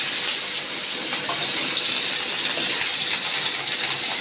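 Pieces of bitter gourd hit hot oil alongside small chillies, giving a loud, steady hiss of frying that stays broad and continuous, close by and with no talk over it.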